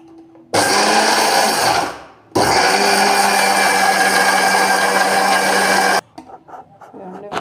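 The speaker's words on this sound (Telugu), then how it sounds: "మిక్సీ పట్టుకుందాం." A kitchen mixer grinder whirs loudly while grinding dosa batter, running in two long bursts with a brief pause between, then stopping, followed by soft handling noises.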